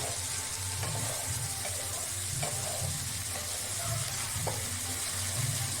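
Chilly chicken liver sizzles and crackles steadily in a hot pan as it is fried dry and stirred, with occasional scraping clinks over a constant close frying hiss.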